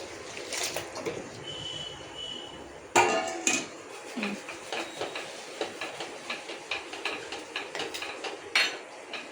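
Chicken pieces added to a cooking pot at home and stirred, with a sharp metallic clank of a spoon, then rhythmic scraping and knocking against the pot's metal sides, close and fairly loud.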